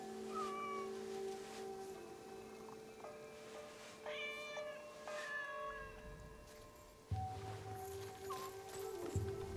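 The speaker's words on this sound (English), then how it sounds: "Oh, we got kitty cats." Several short meows come from a cat at a shrine in Assassin's Creed Shadows, repeated at irregular intervals over a quiet humming game soundscape, with a low thump and shift in background partway through.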